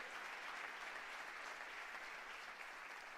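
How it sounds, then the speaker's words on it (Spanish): Steady, dense applause from a large church congregation during worship, continuous and even throughout with no talking over it. "dale ese fuerte ese aplauso a Él"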